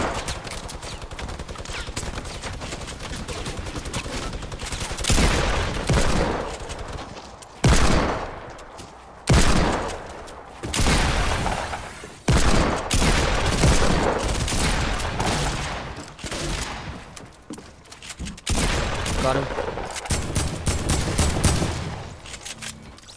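Gunfire in Fortnite comes in dense loud bursts of rapid shots, repeated volleys with short gaps between them, close and dominant over the whole stretch.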